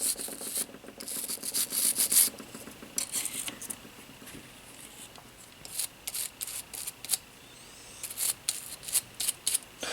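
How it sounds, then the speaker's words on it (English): A toothbrush scrubs brass residue off M1A rifle parts in quick bursts of bristly rubbing, close and crisp, with short pauses between the strokes and no talking. "So what I usually do with the brush is I just"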